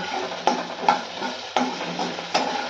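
Food fries in a pan at home, with a steady sizzle and about five sharp scraping stirs at irregular intervals, close and clear with no talk.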